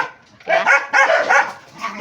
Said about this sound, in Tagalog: diba nag-iingay yung mga aso namin?